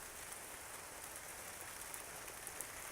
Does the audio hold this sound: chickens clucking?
no